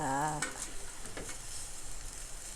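Tilapia fish grilling with a steady close sizzle and crackle throughout; a brief tonal hum at the start fades into continuous frying hiss with occasional soft pops.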